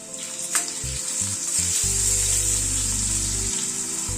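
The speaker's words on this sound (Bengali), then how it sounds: "আলুটাকে ভেজে তুলে নিচ্ছি" Boiled potatoes frying in hot oil, a loud steady sizzle running throughout with low humming underneath and a brief clink near the start.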